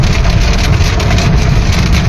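Heavy rain begins pouring in El Harrach, Algeria, a loud, dense and continuous hiss of water hitting surfaces with a rumbling low-end wash and no voices.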